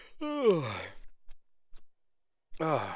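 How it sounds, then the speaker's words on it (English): Stifled yawn from a man playing a Warlock in DDO at a computer, heard as a drawn-out voiced breath that rises then falls, followed by quiet clicks and another short voiced exhale. "had to stifle a yawn there"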